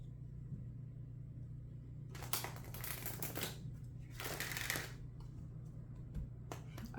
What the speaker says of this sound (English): I like the way that the cards sound when they do that little shuffle.